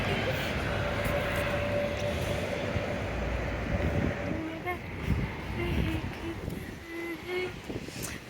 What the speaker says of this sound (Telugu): గాలి మస్తు వస్తుంది.